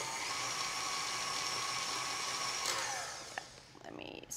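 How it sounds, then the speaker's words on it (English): An electric stand mixer whirs steadily as it blends chocolate-peppermint cookie dough in a bowl, a loud continuous motor drone that shifts and winds down near the end. "let me get that going here in the mixer. Just gonna blend that up till it's well combined"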